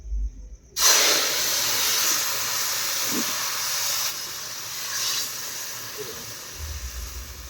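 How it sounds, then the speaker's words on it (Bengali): Chicken curry is tipped into hot oil with a little cumin, bursting into a loud, steady sizzling hiss that holds throughout with little variation. "তেলটা গরম হয়ে গেছে, তরকারিটা দিয়ে দিই"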